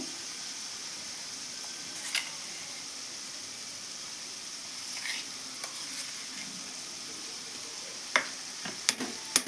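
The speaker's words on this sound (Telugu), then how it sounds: "ఇవైతే బాగా ఫ్రై అయినాయి కదా బీన్స్ ముక్కలు" Chopped green beans stir-fry in a pan with ground sesame, chili, salt and dry coconut powder, giving a faint steady sizzle broken by occasional sharp scraping clicks of stirring.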